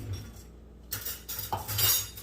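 A metal spoon clinks against a pot of creamy grits, a few light, close taps and scrapes spread over a quiet moment.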